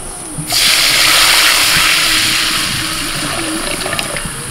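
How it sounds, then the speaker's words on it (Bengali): Strained mustard paste poured into hot mustard oil in a wok, a sudden loud sizzling hiss that holds strong and then slowly eases over a few seconds, with no talking. "এবার এই ছেঁকে নেওয়া সরষেটা আমি ঢেলে দিচ্ছি।"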